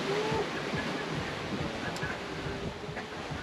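Ocean waves rush and churn at sea during a Pacific sailing crossing, a broad steady roar mixed with wind buffeting the microphone, sustained throughout with no clear speech.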